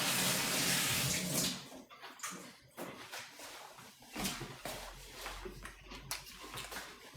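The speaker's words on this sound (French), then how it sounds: "On va se rincer les mains." Running tap water splashes over hands being rinsed in a home kitchen while cooking a tagine, a steady broadband rush with brief interruptions and a few soft knocks, fairly close.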